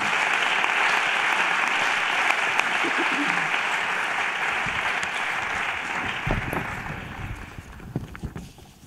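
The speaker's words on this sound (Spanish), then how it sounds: "pido un aplauso especial para todos ellos" Sustained, loud applause from an audience at the opening ceremony of a conference honoring the organisers, a dense wash of clapping that slowly thins toward the end, where a few voices surface.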